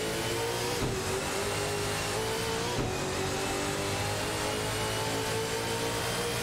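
AI-driven race car engines in a simulated racing event, a steady mid-pitched engine drone with sustained revving tones and a couple of brief shifts, loud and continuous with no voices.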